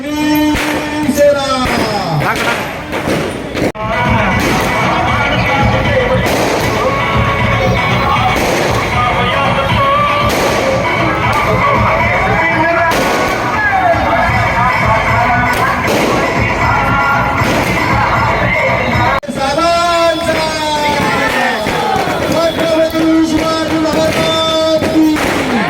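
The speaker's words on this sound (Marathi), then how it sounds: "हा जल्लोष आपल्याला पाहायला मिळतो।" A crowd celebrates loudly in Navi Mumbai, with continuous cheering, chanting, pounding thumps and cracks, and a dense, festive din that never lets up.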